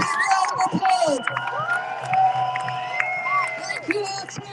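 Rally crowd outside the UK government headquarters erupts in cheers, whoops and shouts, with scattered clapping and overlapping voices throughout, loud and close.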